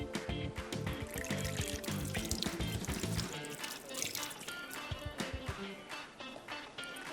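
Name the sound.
washing a spoon under running water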